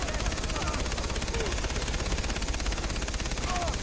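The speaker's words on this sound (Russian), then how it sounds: "Так, пулеметик." Machine gun fire in the video game Far Cry 3 rattles in one continuous, loud burst of rapid shots that runs the whole stretch without a break.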